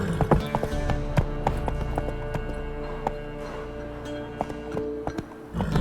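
Horse hooves clip-clop at a steady trot in The Witcher 3: Wild Hunt, close and fairly loud, over soft in-game music.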